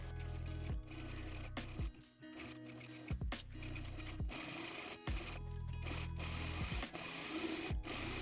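Short bursts of rapid, close stitching come from a sewing machine working a satin blouse collar, each run broken by brief pauses and clicks as the fabric is repositioned.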